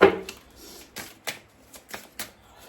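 Tarot cards shuffled by hand in short riffling bursts, about six crisp flutters spaced across the stretch, close and moderately loud with no talking.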